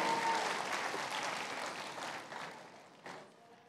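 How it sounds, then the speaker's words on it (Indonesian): Church audience applauding a 23-year-old during a Christmas sermon; a full burst of clapping that gradually thins and fades, with a brief final flurry near the end. "berilah tepukan 23 tahun ini"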